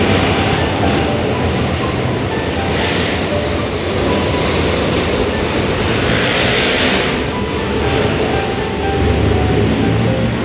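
A light rail train rumbles past nearby at night, a continuous loud roar with rising and falling swells of wheel and engine noise throughout.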